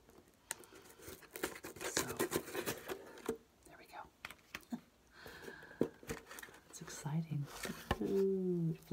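Close, quiet cutting and crinkling of a Tiffany & Co. item's packaging, with scissors snips, paper rustles and tearing, interleaved with whispered speech.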